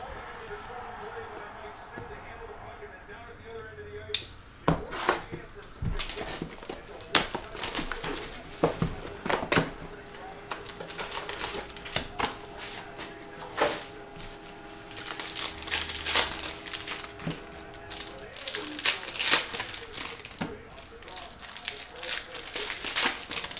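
Foil wrappers of 2016 Absolute retail trading card packs are torn open in a string of sharp crinkles and rips, close by, spread irregularly through the stretch, alongside occasional quiet crumpling.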